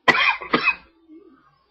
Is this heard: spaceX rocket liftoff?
no